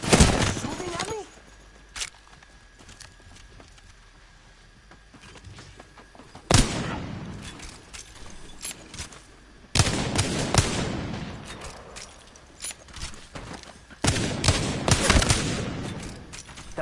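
Bursts of gunfire from a shooter video game come in several loud, dense volleys separated by quieter stretches, with a voice talking over the action.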